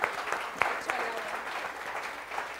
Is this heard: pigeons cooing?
no